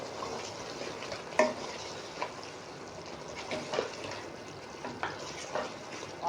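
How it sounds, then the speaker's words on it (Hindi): Spiced chicken pieces roast in a pan over a medium flame, stirred with repeated scraping knocks over a soft, steady sizzle, and no one talks. "अब मैं चूल्हे की फ्लेम को मीडियम रखते हुए इसे 2 से 3 मिनट इसकी अच्छे तरीके से भुनाई कर दूंगा।"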